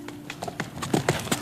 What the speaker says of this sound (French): quand il entendit le galop d'un cheval